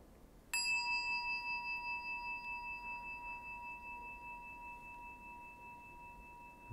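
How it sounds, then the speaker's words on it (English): A single meditation bell is struck once, giving a clear, pure ring that sustains and slowly fades with a gentle wavering pulse over several seconds in a quiet room. "just close your eyes and enjoy the sound of the bell"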